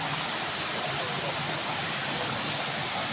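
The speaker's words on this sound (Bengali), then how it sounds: "এই দেখুন ওখান থেকে ঝর্নার জলটা আসছে।" A waterfall at Balasore in Odisha sends water pouring down in a steady, dense rushing hiss, close and continuous with no breaks.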